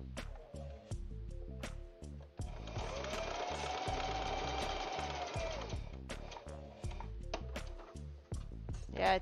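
A sewing machine stitches a quilt block in a steady burst of fast, even mechanical chatter lasting a few seconds, close and clear, with background music before and after.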